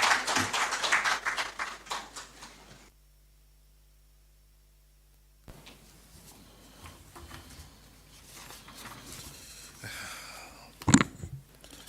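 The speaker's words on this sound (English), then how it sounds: "Shall we acknowledge him with a round of applause," An audience at a national economic dialogue report event at the Presidency applauds the President of the Republic, a burst of clapping that drops out abruptly before faint room noise and a sharp late knock.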